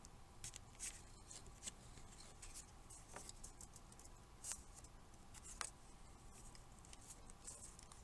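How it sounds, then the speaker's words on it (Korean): Scissors snip through paper while a hand fan is decorated with a cut-out meadow scene, making faint, scattered crisp cuts and light rustles in a quiet room. "필요 없는 부분 알맞게 잘라주세요."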